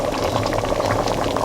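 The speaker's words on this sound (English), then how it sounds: "We'll let this come to a good boil" A pot of sweet potatoes at a rolling boil, a dense, steady bubbling and gurgling of water heard up close and alone.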